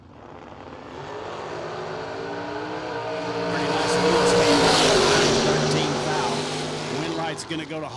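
Drag racing cars, a Chevrolet Malibu and a Pontiac, roar off the line together, engines swelling to a loud peak then easing away as they pass, with an announcer's voice running over the noise.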